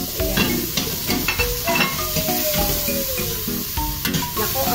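Onion, garlic, ginger and lemongrass frying in a hot pan for kansi, a steady sizzle with repeated stirring scrapes and clinks throughout, close and fairly loud, with no talking.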